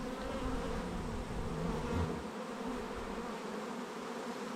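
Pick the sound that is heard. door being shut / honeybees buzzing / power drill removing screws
honeybees buzzing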